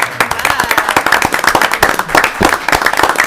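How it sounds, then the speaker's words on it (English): Scouts at a town commissioners meeting in Poolesville receive a round of applause from the room: dense, steady hand clapping from a small crowd, close and fairly loud, with a few sharper individual claps standing out. "If you don't mind, just stand up, and then we will applaud you."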